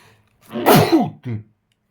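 A single sharp sneeze bursts out close and loud, followed by a short exhaled tail, heard during a Ukrainian-language tennis commentary broadcast.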